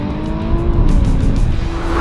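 A Nissan GT-R NISMO accelerates hard in a drag race against an Acura NSX Type S, C8 Corvette and 911 Turbo S, giving a loud, close, sustained engine roar that swells steadily with no pauses.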